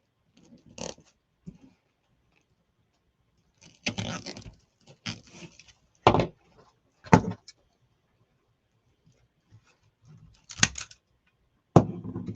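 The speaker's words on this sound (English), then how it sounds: "I knocked my trash can over" A plastic trash can clatters over and scatters its contents indoors, with a scattered series of knocks, rustles and thumps separated by short silences, close by and with no talking.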